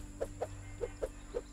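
Ducks quack in the Two Point Campus video game, five short evenly spaced quacks, close and clear over a faint steady game hum.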